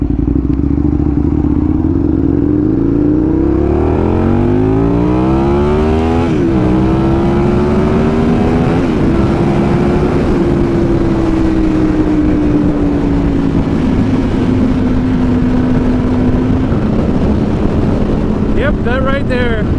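An Aprilia RSV1000R motorcycle engine revs loudly nearby, rising in pitch through repeated sweeping climbs and falls, with wind buffeting and a person talking over it.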